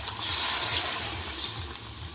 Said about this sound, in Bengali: আর একটু জল আমি দিয়ে দেব।